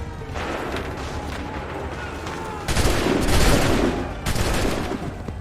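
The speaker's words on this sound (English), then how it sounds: "Wait for the signal. Open fire." Musket volleys in Assassin's Creed III, a rolling crackle of many shots with a louder burst of fire partway through and another shortly after, dense and loud.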